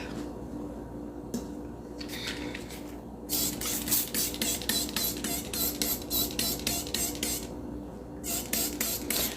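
A handheld spray bottle pumps out a rapid series of sharp hissing spritzes, first a few scattered bursts, then a quick steady rhythm of repeated sprays close up, with no talking.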